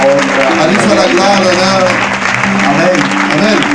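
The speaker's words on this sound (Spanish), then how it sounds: "Demos un aplauso al Señor" Congregation at a church convention in Paris applauding loudly and continuously, a dense wash of clapping with a voice speaking or chanting over it.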